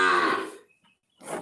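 A cow moos once in a cattle pen, a loud, close, drawn-out low call that fades after about half a second, followed by a brief quieter start of another call.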